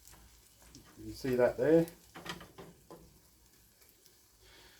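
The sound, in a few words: omelette frying in a pan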